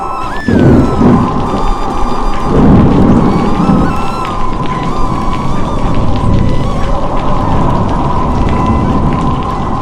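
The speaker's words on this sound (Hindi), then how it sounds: "जोरदार आंधी तूफान शुरू हो जाता है और बहुत ही तेज बरसात होने लगती है" A strong storm with heavy rain and thunder: a dense, loud roar of wind and downpour runs steadily throughout, with low booming surges near the start.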